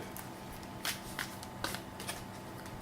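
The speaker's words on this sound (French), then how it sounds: "tu mélanges les cartes restantes dans ton deck" Riffle of a deck of playing cards being shuffled during a tabletop card game, with soft continuous papery flutter and a few brighter snaps as the cards fall together, close and moderately quiet.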